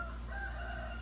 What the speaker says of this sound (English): I just can't stand a rooster to try to interfere with my conversations.